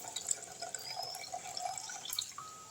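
Dried anchovies are washed by hand in water, giving faint, close splashing and dripping with small trickles and light sloshing, with no talking.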